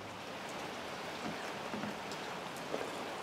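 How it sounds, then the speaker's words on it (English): Rain falls outdoors onto a cement patio, a steady, even hiss of drops that stays fairly soft and unbroken throughout. "Well, I got rained out today,"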